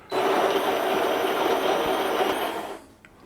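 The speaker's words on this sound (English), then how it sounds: "And then it does its grinding for about 15 seconds." Built-in grinder of a Cusimax espresso machine grinding coffee beans, a loud, close, steady whirring buzz that runs nearly three seconds and then cuts off, with no talk.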